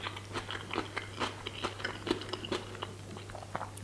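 Close, crisp crunching and chewing of a freshly made colourful salad, irregular bites repeating over a low steady background hum, faint and intimate.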